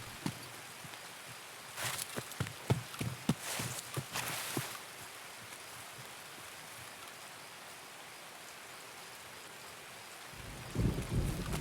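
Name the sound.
rain and thunder, from a video game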